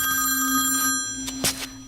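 A telephone bell rings steadily in a Malayalam film scene, a bright, sustained tonal ring that stays clear and close for nearly two seconds, with no one talking over it.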